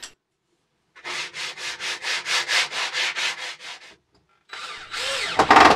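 Steady rhythmic rubbing of sandpaper along the edge of a wooden strip, a run of about a dozen even back-and-forth strokes, close and fairly loud, followed after a pause by a longer scraping pass with no talk.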